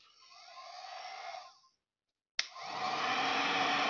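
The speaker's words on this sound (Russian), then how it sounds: "Включаем фен." A heat gun blows a steady hiss of hot air to dry welding electrodes, cuts off briefly, then switches back on with a sharp click and roars again.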